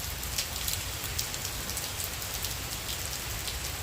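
Steady, soft rainfall during a tropical storm, a continuous hiss of drops pattering on surfaces with faint crackling ticks and no voices.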